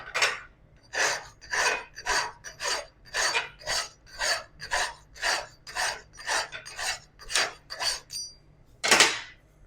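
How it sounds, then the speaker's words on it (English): A hand file rasps against welding pipe pieces in about a dozen even, rhythmic strokes, close and fairly loud, ending with one sharper, longer scrape. "I'm going to file that out."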